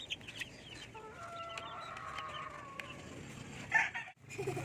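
Hens cluck softly nearby, their murmuring calls rising and falling over a quiet farmyard background, with a louder squawk near the end.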